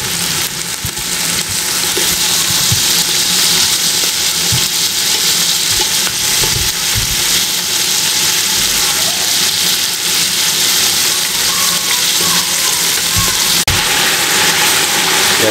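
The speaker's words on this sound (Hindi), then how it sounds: "2 मिनट टमाटरों को भी साथ ही भून लें" Half a kilo of finely chopped tomatoes frying in a pan for a creamy tomato soup, a loud continuous sizzle up close with scattered scraping knocks of the stirring spoon throughout.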